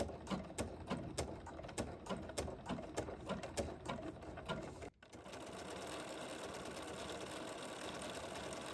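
An embroidery machine with a circular embroidery attachment stitches in a quick, steady mechanical clatter of regular needle strikes, then stops and gives way to a low continuous hum.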